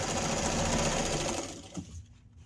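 A sewing machine runs steadily, stitching the matched corners of a fabric drawer organizer, a loud close whirring that fades and stops near the end.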